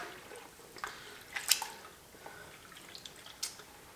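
A sponge is soaked and swished in a bucket of water mixed with rinseless wash product, giving faint, sparse drips and splashes over a quiet background.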